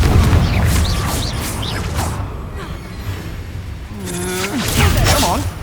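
A Confringo blasting spell explodes in Hogwarts Legacy, heard as booming, whooshing bursts amid combat effects and game voices.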